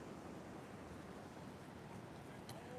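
Ocean waves wash continuously onto the shore in an oceanfront setting, a soft, steady broadband rush with no distinct breaks, faint and even throughout.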